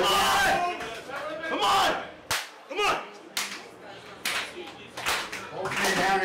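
Crowd at the Powerslam 2024 wrestling event cheering and roaring loudly in a packed arena, rising and falling in waves with sharp bursts, while a commentator's voice cuts in over the noise.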